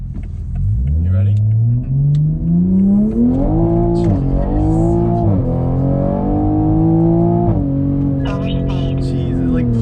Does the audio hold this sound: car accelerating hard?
yes